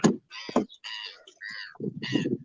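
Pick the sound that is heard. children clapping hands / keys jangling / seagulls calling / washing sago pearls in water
seagulls calling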